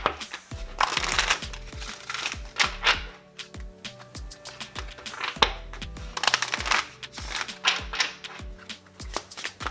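Oracle cards are shuffled in bursts of crisp riffling and flicking, with soft taps and pauses between, close up and fairly quiet, with no talking.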